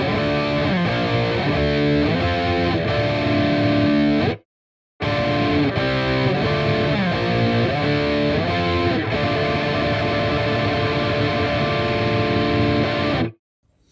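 Heavily distorted electric guitar power chords, dense and loud, sustained through two passages separated by a brief silence, with no voices.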